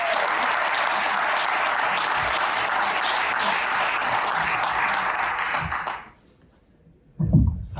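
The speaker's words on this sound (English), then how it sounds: "So if we could give them all a round of applause," Audience applause at a panel on the future of digital assets in Miami: loud, dense clapping from a large crowd that stops abruptly, followed by a brief rustle.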